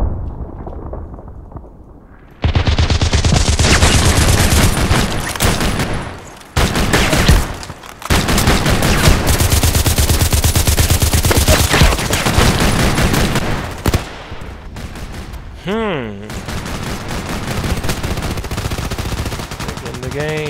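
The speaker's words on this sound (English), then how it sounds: "Shooting from the right. Far away." Gunfire in the shooter game Contract Wars with an H&K 416c rifle: loud, dense bursts of rapid shots fill most of the span, broken by brief pauses and a short quieter stretch near the end.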